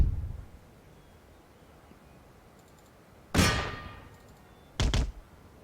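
Artillery fire in the strategy video game Empire: Total War, heard as two loud distinct booming cannon reports, the first with a longer decaying tail, the second shorter, after a quiet stretch.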